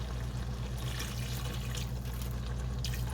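Water pours from a can into a cooking pot in a home kitchen, a steady close splashing trickle over a low hum, with no talking.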